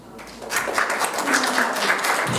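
An event audience claps steadily for a couple of seconds, a dense wash of applause that swells after a brief start.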